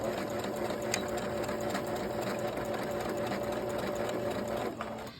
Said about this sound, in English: I'm going to turn my machine all the way down and we're going to stitch and backstitch, and I'm going to show you.